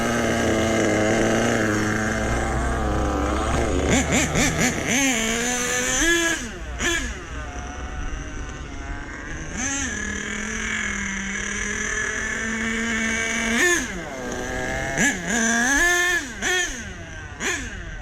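Truck engine running after a quarter-turn carburetor mixture adjustment on the low side, a steady close rumble broken by several sharp revs and blips that fall back to a settled idle.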